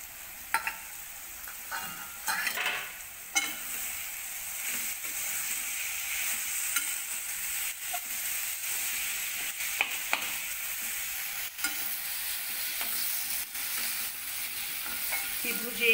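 Paneer bhurji made from raw milk frying in a pan, a steady soft sizzle broken by repeated scraping stirs and light taps of the spoon, with no voices.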